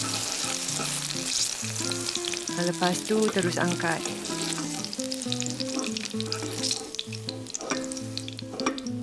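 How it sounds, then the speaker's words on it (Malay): Oil sizzles and crackles steadily as garlic and bird's eye chili fry in a pan until wilted, with scraping stirs and a brief spoken remark over the cooking. "Panaskan dan goreng bawang putih dengan cili padi tadi sampai layu"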